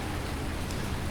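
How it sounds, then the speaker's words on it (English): Dense, steady hiss of mixed rain and sleet in Farming Simulator 19 fills the moment, an even wash of fine patter with no breaks. "it's partly rain and partly snow"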